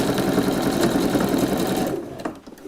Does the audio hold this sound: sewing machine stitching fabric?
yes